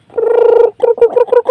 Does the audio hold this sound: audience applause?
no